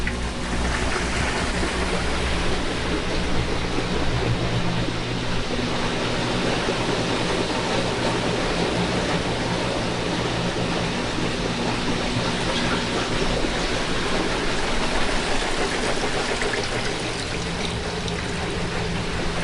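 A portable laundry dryer spins leftover water out of wet clothes with a constant dense whooshing, splashing roar, steady and close throughout with no pauses.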